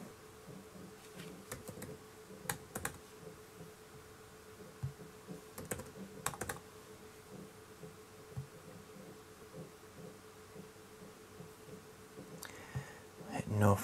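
A PIN is tapped out on a computer keyboard during virtual machine setup on a QNAP device. Soft, sparse key clicks come in small clusters over a low hum, with a louder clatter near the end.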